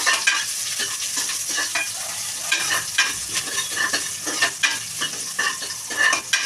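Masala sizzling in a hot pan for a green gram sambar, stirred with a spoon in repeated close scraping strokes over a steady crackling fry, with no voices.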